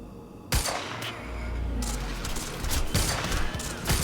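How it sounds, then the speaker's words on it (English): Rapid bursts of gunfire from enemies fought in the video game Quantum Break, sharp cracks stacked into fusillades over a dense rumbling backdrop, loud and close with no voices. "Maybe I can headshot them from here."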